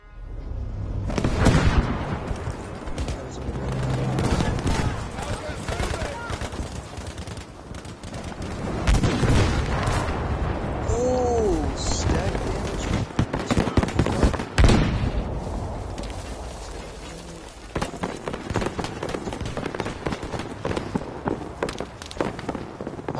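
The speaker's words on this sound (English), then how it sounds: "Firecracker." Firecrackers go off in the Battlefield V video game as repeated loud, sharp bangs and crackling bursts, mixed with gunfire-like blasts and no talking.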